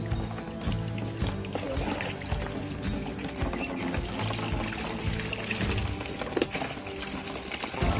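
Water gushes steadily from a pipe into a bucket beside a water tank used for fish farming, a dense, continuous splashing pour that runs unbroken and fairly loud throughout.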